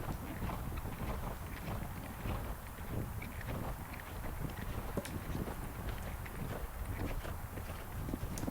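A horse canters in a natural gallop, hooves drumming in a soft, irregular rhythm at a distance beneath heavy wind rumble across the microphone.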